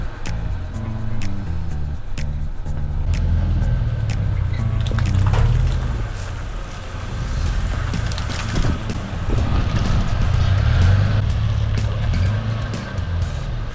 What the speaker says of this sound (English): the truck's done enough to drive